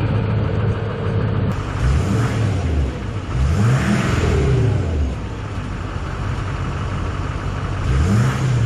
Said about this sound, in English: we'll do a couple revs and see how that sounds now.